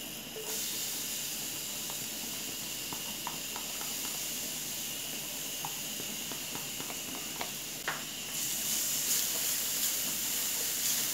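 Garlic sautés in a thin drizzle of olive oil in a pan, giving a soft, steady sizzling hiss with a few faint clicks and pops. The sizzle swells slightly near the end and carries on without talking.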